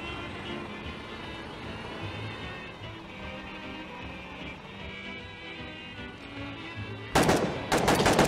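Video game gunfire erupts in two loud, dense bursts near the end, following a stretch of steady battlefield rumble from vehicles and distant combat during a bridge battle.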